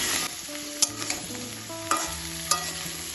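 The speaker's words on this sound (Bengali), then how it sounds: "সজনের ডাটা মিষ্টি আলু গাজর পেঁপে ডিম কলা একটু ভালো ভালো তেলে সাথে ভাজা করে দেবো" Drumstick, sweet potato, carrot, papaya and plantain fry in oil, giving a steady close sizzle with a few sharp clatters of stirring against the pan and no voices.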